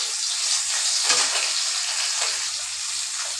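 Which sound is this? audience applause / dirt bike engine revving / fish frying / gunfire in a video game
fish frying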